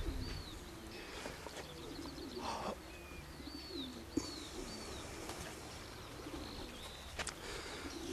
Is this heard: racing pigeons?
yes